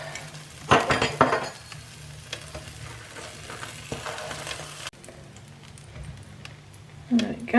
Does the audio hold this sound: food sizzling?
yes